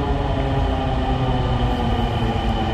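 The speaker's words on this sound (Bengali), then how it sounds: "এই মুহূর্তে মেট্রো স্টেশনে একের পর এক ট্রেন আসছে এবং যাচ্ছে" A Dhaka metro train rumbles loudly and steadily through a station during a final trial run, a continuous near roar of rail cars with no voices.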